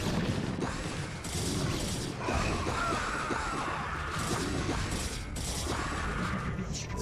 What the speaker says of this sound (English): Nuclear launch detected.